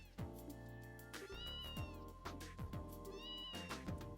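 Repeated synthetic cat meows over a steady game-style music backing, several short mews in a row at fairly even loudness, from the game Legend of Heroes: Trails in the Sky SC.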